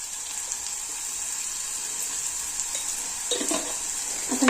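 Onions sizzle steadily in a pan for paneer bhurji, a continuous broadband frying hiss with occasional stirring clatter and a louder scrape near the end, no voices.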